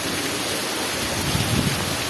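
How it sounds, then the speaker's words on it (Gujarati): Heavy monsoon rain pours down in Kutch, Gujarat, a dense, steady roar of water drumming on surfaces nearby, loud and continuous with no talking. "આજે ભાઈ સાહેબ વરસાદ ભૂકા બોલાવ્યો"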